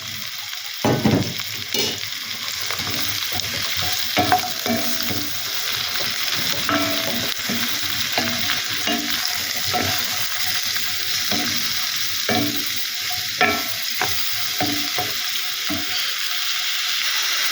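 Shiitake mushrooms fry in a pan with browned garlic, a steady loud sizzle broken by repeated scraping stirs and clatter of the utensil, no voices.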